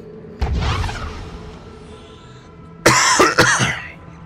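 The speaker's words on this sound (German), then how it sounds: "Sorry, das Husten kann leider nicht wegbleiben." A sick man coughs during a Darksiders 2 gaming session: one harsh cough, a quiet stretch, then a rapid burst of three or four loud, close coughs with no speech.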